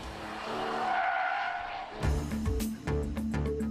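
A Porsche 911 GT3 of the 996 generation drifts, its engine note rising before tires break into loud, sustained squeals, with repeated revving bursts and screeching over the engine drone close by.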